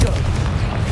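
A Confringo fire spell explodes in the wizarding game Hogwarts Legacy, a single short, loud, deep boom filling the whole moment.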